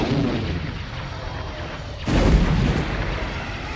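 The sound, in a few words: missile explosions hitting a destroyer, Star Wars audio drama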